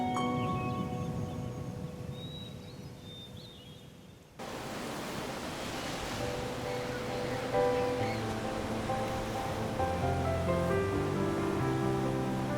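Ocean waves wash in a steady, hissing rush, softer at first and then filling out into a fuller, constant surf as a music bed plays softly underneath.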